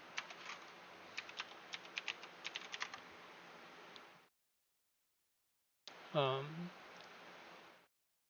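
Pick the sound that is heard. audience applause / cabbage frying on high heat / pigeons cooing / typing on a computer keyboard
typing on a computer keyboard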